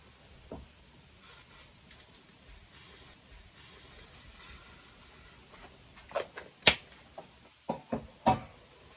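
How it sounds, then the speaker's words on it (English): Brake parts cleaner is sprayed onto the transmission drain plug of a Harley-Davidson Dyna Street Bob during an oil change: soft hissing bursts, followed by a few sharp clicks and taps close by. "Just apply a little bit of that brake parts cleaner to the actual drain plug, give that a good clean."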